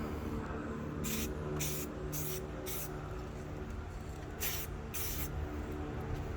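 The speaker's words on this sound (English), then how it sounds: "Just a nice, smooth mist that overlaps the top of where you're spraying the object" Several short bursts of hissing spray from a spray paint can, spaced irregularly over a low background hum, each lasting about a quarter second.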